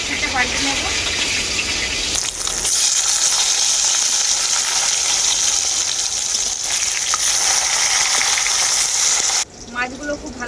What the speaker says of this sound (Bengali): তেলটা খুব ভালোভাবেই গরম হয়ে গেছে এখন আমি মাছগুলো ভেজে নেব